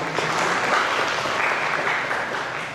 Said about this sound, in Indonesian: Tepuk tangan untuk Tera.